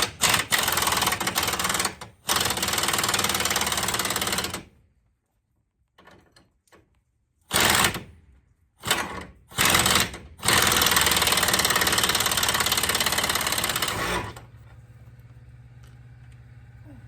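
An air impact wrench breaks loose the 24 mm lower control arm bolts on a Chevrolet Silverado. It gives long, loud, close hammering bursts separated by short gaps and brief quiet, then ends in a low idle hum.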